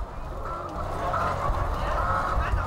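Crowd of hens on a large Vietnamese egg-laying chicken farm, with a dense, steady din of clucking and honk-like fowl calls over low hum, continuous and fairly close throughout.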